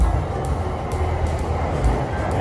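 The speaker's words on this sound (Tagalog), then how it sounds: "Ayan na naman tren, o diba?" A train rumbles past in Tokyo, a loud, continuous low roar of rail cars with faint rhythmic clatter, heard close and steady throughout.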